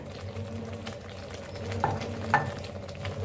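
Masala for egg curry fries in a pan, a steady close sizzle with stirring and a couple of small utensil clicks against the pan.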